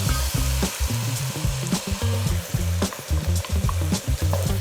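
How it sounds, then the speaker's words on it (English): Browned mince in a pan sizzles loudly while a spoon stirs through freshly poured rough tomato sauce for spaghetti bolognaise, with steady frying crackle and repeated scraping, sloshing stir strokes close up. "Give that a good stir."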